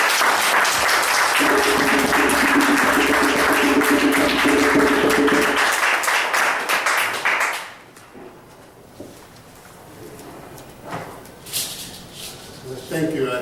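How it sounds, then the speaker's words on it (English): Seminar audience greeting a lecturer with a big round of applause, a dense sustained wash of clapping for about seven seconds before fading out, followed by quiet room sound and a few brief voices. "show him a great, big welcome of applause"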